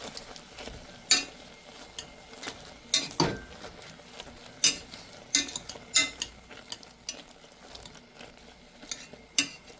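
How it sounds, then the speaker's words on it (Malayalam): Cooked apple being mashed with a potato masher for homemade sugar-free apple sauce or jam: irregular, close squelchy thumps with light metallic clinks against the pot, no talking. "ഞാനിവിടെ ഈ പൊട്ടറ്റോ മാഷറും കൊണ്ടൊന്ന് ഇങ്ങനെ മാഷ് ചെയ്തെടുക്കുകയാണ് ചെയ്യുന്നത്"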